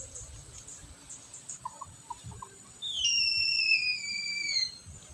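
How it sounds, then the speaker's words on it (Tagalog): A trained wild junglefowl (labuyo) gives an eagle-like call: a sharp, whistling, two-toned cry that lasts under two seconds and stands out clearly over a quiet outdoor background. Faint chirps come just before it. "Parang agila yung si Kano, yung tunog niya mga master"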